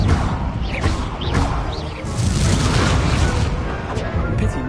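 Spell-combat effects from a wizard duel in Hogwarts Legacy as an Incendio fire spell is cast, a dense roaring burst of whooshes and crackling impacts that stays loud throughout, with a shouted voice amid the clash.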